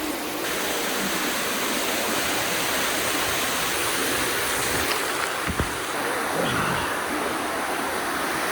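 Waterfall inside a cave on Siquijor Island roars as a loud, steady rushing wash of water, continuous and close, with no voices over it.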